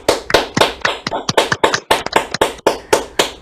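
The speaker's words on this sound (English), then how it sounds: "I want to hear some applause for them." Sharp, close handclaps come in an uneven rhythm, sounding like a few people clapping near their microphones during an online orientation session.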